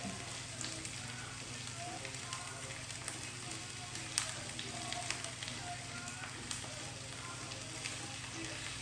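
Stuffed chicken breast fries in a pan, a constant soft sizzle and crackle with small pops running throughout at low volume.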